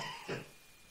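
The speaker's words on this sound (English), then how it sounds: "Excuse me, my coughing, guys" One short, faint cough, heard alone in a quiet room.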